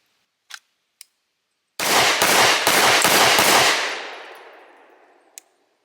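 A Staccato pistol fires a quick burst of about five close, loud shots with long ringing decay, preceded by two small clicks and followed by a faint tap.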